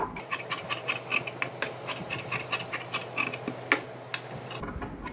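Scissors snip through cloth while cutting out a V-neck design, a rhythmic run of close, crisp clicks over a low steady hum, with no talking.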